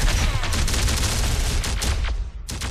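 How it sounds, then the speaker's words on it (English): Dense sustained gunfire in the sci-fi war strategy game Terminator Dark Fate: Defiance, loud rapid overlapping bursts forming a continuous fusillade with heavy low booms, filling the whole stretch. "We are taking fire."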